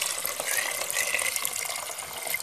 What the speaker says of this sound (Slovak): Celú zmes zalejeme teraz teplým kuracím vývarom.